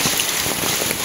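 Heavy rain falls on a village in the Konkan, a dense, loud, continuous hiss of drops close by with no voices.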